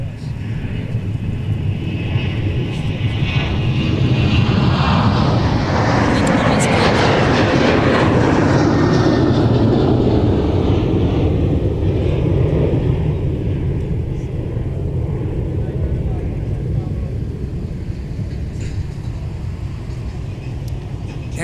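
An Alaska Airlines jet departs from MSP airport, its roar swelling to a loud peak over several seconds and then fading into a distant rumble, with radio chatter underneath.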